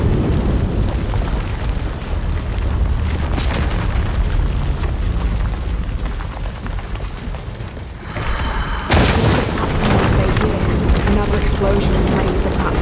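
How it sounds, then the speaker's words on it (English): An explosion in the video game Shadow of the Tomb Raider raises a platform: a dense booming rumble that drops briefly, then bursts out again in a sharp blast with crackling debris, heard under speech. "Explosion raised the platform."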